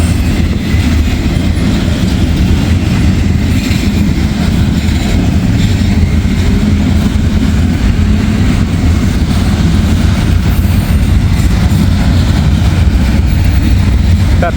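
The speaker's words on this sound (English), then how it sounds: "I think I hear a train going through Laughlin." A train rolls through Laughlin as a steady, loud rumble with a rhythmic clatter of wheels on rail, continuous and close for the whole stretch.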